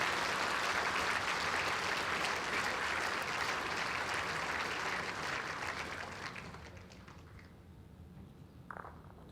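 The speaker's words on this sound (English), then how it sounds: "he applauded Graham for his effort" Audience applause at the 2017 World Indoor Bowls Championship, a dense, steady clapping from an indoor crowd that holds for several seconds and then thins and fades toward the end.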